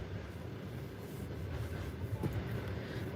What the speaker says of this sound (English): look at that train with tourists. This is the tourist train